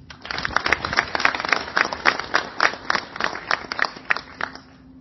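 Audience applause at a HellermannTyton 50th-anniversary business event in South Africa, a small group clapping in uneven bursts over about five seconds, fairly close and moderately loud, tapering off at the end.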